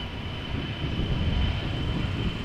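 A KLM Embraer 175 airliner at Amsterdam Schiphol Airport gives off a steady, loud, broadband engine roar with a thin high whine, holding level without pauses.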